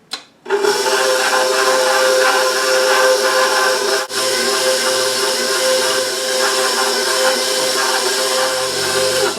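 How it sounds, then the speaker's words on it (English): A stand mixer fitted with a dough hook kneads olive rosemary bread dough at speed 2, a steady loud motor whine with a constant droning hum that runs throughout, pausing only briefly partway. "Now I'm going to mix this at speed 2 for about 5 minutes."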